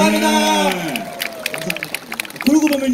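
Audience applause for a singer at a televised Korean music show, a crowd clapping and cheering under a host's voice that dominates, with sung or sustained vocal tones over the clapping.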